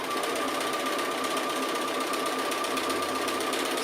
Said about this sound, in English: it really is just drawing with your sewing machine